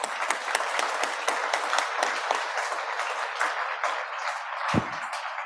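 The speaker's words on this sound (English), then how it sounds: "please, if you join me in a round of applause" Conference audience at an opening keynote in New Zealand breaks into applause, a dense patter of many hands clapping steadily for several seconds with one louder thump near the end.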